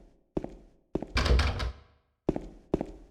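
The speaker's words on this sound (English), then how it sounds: "Okay, I can't open that door." Several heavy thunks as a locked door is tugged in the video game Silent Hill 2, two short knocks, a longer rattling shake, then two more knocks, with silence between them.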